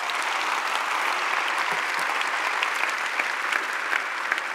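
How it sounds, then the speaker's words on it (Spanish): A large church congregation applauds loudly and continuously, a thick, sustained roar of clapping that stays level throughout. "Fuerte ese aplauso."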